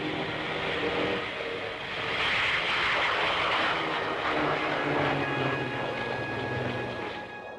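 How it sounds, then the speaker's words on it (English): Captured German jet aircraft, such as a Heinkel He 162 Salamander or Messerschmitt Me 262, in a flying display, giving a continuous loud engine roar that swells and fades as it passes, with no talking. "the show also included flying displays by captured German aircraft"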